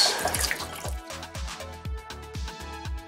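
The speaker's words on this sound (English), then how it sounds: "Give it a really good rinse." Water rinsing through an aquarium glass pipe, a rushing splash at first, then a series of gurgling, dripping pulses at an irregular rhythm, close and fairly quiet.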